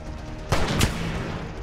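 Enemy gunfire in Fallout 4, two quick loud shots about a third of a second apart over steady background noise, no talking.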